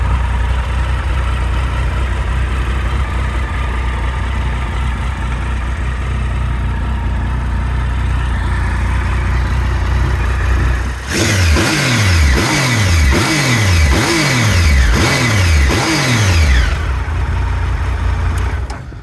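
A 2013 Triumph Sprint 1050 GT motorcycle engine idles steadily and close by, then is blipped through about five sharp, rising revs in quick succession before dropping back toward idle.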